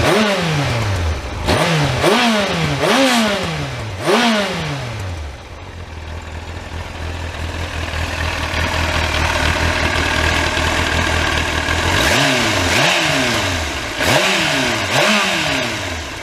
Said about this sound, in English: I'll just give the throttle a blip so you can hear the standard exhaust.